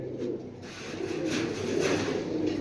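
Pigeons at a pigeon sale, racing and Musaldom birds, coo in a low, continuous rolling murmur that holds steady and swells slightly toward the end, close and moderately loud with no voices over it.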